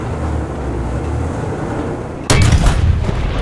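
A single loud tank cannon shot of a high-explosive shell in War Thunder from a Turan III, a sharp broadband blast that cuts in abruptly over a steady engine rumble and then rings on.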